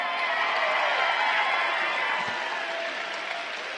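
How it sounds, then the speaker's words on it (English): A large crowd at a live political event applauds Senator Sanders, a dense sustained roar of clapping with some cheering, even and full throughout. "Let's give Senator Sanders another big round of applause."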